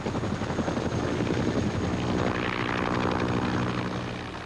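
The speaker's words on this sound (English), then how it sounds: "The helicopter was the sound that the grunts hated the most and loved the most." A helicopter flies close, its rotor throbbing in a loud, rapid pulsing chop over a heavy engine rumble, steady before fading slightly at the end.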